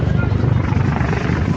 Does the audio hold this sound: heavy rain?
no